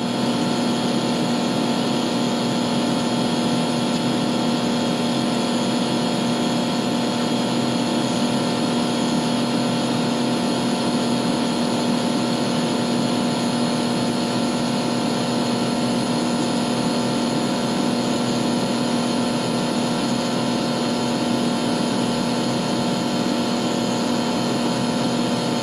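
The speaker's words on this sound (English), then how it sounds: "The outdoor fan and indoor blower will operate at minimum speeds during this 1 minute period." A variable speed furnace system with its outdoor fan and indoor blower running at minimum speed gives a steady, continuous mechanical hum with a constant tone, nearby and unchanging throughout.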